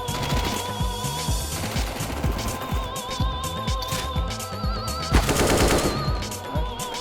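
Rapid bursts of automatic gunfire crackle in a CS:GO match, dense repeated shots with short gaps, growing louder and heavier near the end, with no voices over them.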